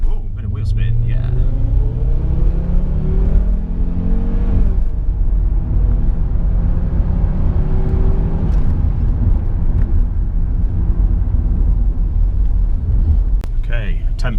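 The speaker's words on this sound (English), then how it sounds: "bit of wheel spin" A Renault Safrane engine rumbles and rises in pitch as the car accelerates with some wheel spin, heard loud from inside the cabin and steady throughout, with a voice talking over it.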